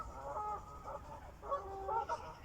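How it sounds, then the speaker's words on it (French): Geese honk outdoors beside a tree in a quiet natural setting, giving several nasal calls in two clustered bursts at moderate distance, with no voices. "Et je vous laisse profiter de cet instant avec le chant des oies."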